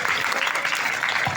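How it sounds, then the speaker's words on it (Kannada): Loud, steady applause from a room of people for a little girl, continuous clapping filling the short moment without a break. "ಎಲ್ಲರೂ ಜೋರಾದ ಚಪ್ಪಾಳೆ ಪುಟ್ಟಿಗೆ."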